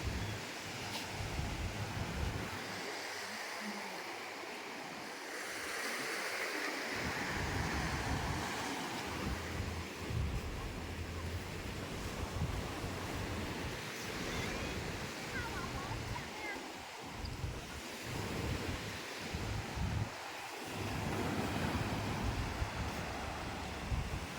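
Wind gusting and surf washing onto the sand of a Ko Samet beach in the early morning, a steady broad roar with a few lulls and occasional faint voices in the background.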